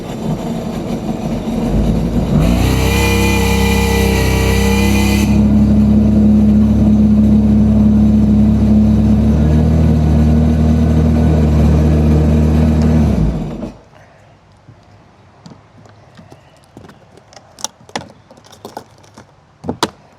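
A 2026 Sea-Doo Spark Trixx jet ski engine revs up out of the water and holds a steady, loud droning high idle around 4,500 RPM for about ten seconds, then cuts back, leaving quiet clicks and taps.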